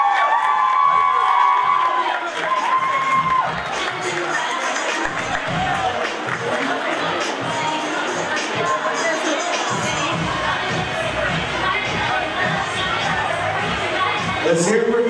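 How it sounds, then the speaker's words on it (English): A school audience at a graduating-class fashion show fundraiser cheers and claps for a student on the runway, loud crowd noise with whoops and shouts sustained throughout, mixed with chatter. "Give a round of applause."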